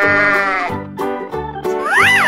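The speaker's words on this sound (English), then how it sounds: "Sheep." A cartoon sheep bleats in a short animated scene, several wavering, close, loud bleats in quick succession with brief gaps.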